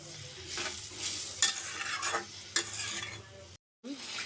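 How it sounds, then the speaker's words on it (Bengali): Spice paste sizzles in oil as it is stirred for a spicy snakehead fish curry, scraping strokes repeating over a soft frying hiss close by, ending with a brief silence and a final scrape. "ভালো করে মশলাটা কষিয়ে নেব মশলায় তেল ছেড়ে দেওয়ার আগ মতো পর্যন্ত"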